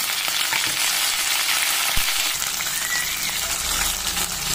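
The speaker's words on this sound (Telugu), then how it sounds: "అన్ని వెజిటేబుల్స్ వేసి బాగా వేయించుకోవాలి" Drumsticks, radish and carrots fry in a pan for Rayalaseema-style sambar, giving a dense steady sizzle with occasional stirring scrapes and a sharp clink, close and alone without talk.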